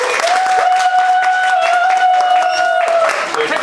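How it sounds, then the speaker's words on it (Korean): An audience at a church lecture claps loudly in a dense, continuous burst, while a steady high tone rings through and a voice carries faintly underneath. "박수는 크게 쳐주셔도 됩니다."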